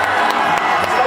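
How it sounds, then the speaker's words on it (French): A crowd at a school college tournament cheers and shouts loudly, a dense, close roar of voices with some clapping mixed in, filling the whole moment without pause. "on fait un maximum de bruit"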